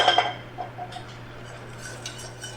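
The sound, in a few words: whisking sauce in a pot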